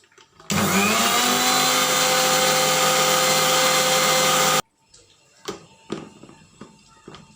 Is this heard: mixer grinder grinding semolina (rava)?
yes